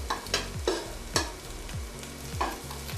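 Potatoes frying in a pan alongside eye round steak, a steady broad sizzle broken by repeated scraping stirs and low knocking thuds, close by, with no voices over it.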